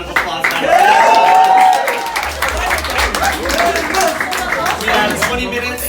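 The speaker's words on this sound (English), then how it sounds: "Let's all give Sheamus a big round of applause now." A crowd applauds and cheers for wrestler Sheamus, loud sustained clapping with whoops and a high rising cheer near the start, continuing steadily throughout.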